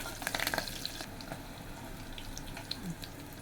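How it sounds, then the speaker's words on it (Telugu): Cumin, pepper and garlic paste roasting in a hot pan for rasam, a steady close sizzle with a few stirring clinks near the start and no talking. "ఇది చక్కగా రోస్ట్ అవ్వాలి"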